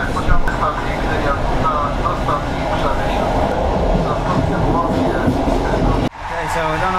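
Steady rumbling roar of a train running on rails, heard from inside a carriage in Poland, loud and continuous with rattling texture, under people talking, before a sudden drop in level near the end.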